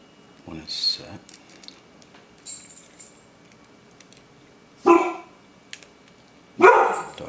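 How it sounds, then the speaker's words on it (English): A dog barks indoors during a lock-picking session on a Bricard Euro thumbturn lock, giving a few sharp, loud barks in separate bursts spaced several seconds apart, with faint handling clicks in the quiet gaps. "Dog is barking, I apologize."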